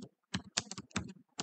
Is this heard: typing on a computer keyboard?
yes